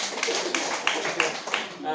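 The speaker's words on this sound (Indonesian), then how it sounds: "Tepuk tangan dulu saudara." A church congregation claps hands together during a sermon, a quick run of sharp claps that fades out near the end, with voices speaking over it.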